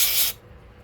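Aerosol cleaner sprayed into a Mach .26 nitro RC car carburetor: a loud, close, airy hiss lasting about a third of a second, then cutting off to near quiet.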